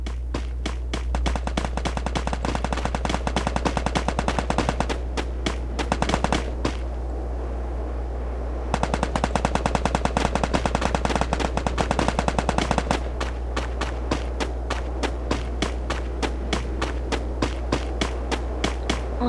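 Rapid automatic gunfire in the Free Fire video game rattles in long, dense bursts with brief pauses between them. The shots are close and steady, and no one speaks.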